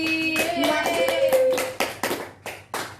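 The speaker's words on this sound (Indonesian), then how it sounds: "Beri aplaus sekali lagi." Applause in a primary-school classroom: a burst of claps from a group of pupils, starting amid voice-like tones and then breaking into a few sharp, separate rounds of clapping near the end.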